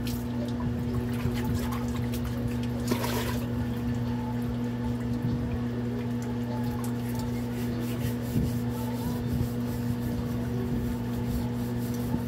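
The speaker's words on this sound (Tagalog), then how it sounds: "Then, tatapon natin yung tubig nila." Water trickles and pours out of orchid pots in a steady, continuous stream over a constant electrical hum, with a brief louder splash early on and faint background voices.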